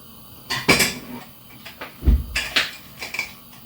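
A pressure cooker lid handled in a home kitchen, a few sharp metallic clanks and knocks spread over a few seconds, near and fairly loud.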